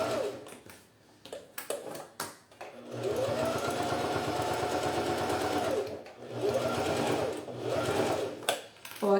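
Sewing machine stitching a fabric organiser pouch with a lining and button-closure flap, running in two sustained bursts of steady whirring with a short pause between, preceded by a few clicks and fabric handling sounds.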